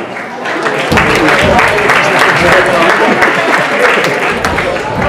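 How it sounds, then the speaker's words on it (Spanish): An audience applauds loudly and continuously after a performance of Rocky film themes, a dense wash of many hands clapping with some crowd noise mixed in. "Un fuerte aplauso."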